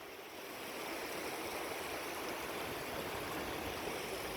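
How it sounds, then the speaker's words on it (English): A small waterfall pours near a beach in New Zealand's South Island, giving a loud, continuous rushing hiss that swells in over the first second and then holds steady, with no talking. "we even got our own little waterfall here"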